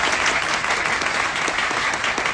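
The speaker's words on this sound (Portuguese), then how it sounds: "uma salva de palmas pro Toninho" Dense, continuous applause from a crowd at a pro-downtown São Paulo gathering, loud and steady throughout with no pauses or voices standing out.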